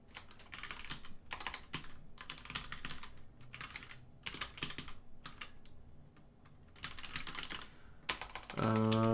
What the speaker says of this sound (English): Let me type this real quick.